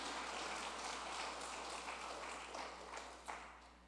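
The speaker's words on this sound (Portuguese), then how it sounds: "As palmas para ele." Church congregation clapping for a preacher in a Portuguese-language service, a broad, steady patter of many hands that fades gradually toward the close, with a low hum underneath.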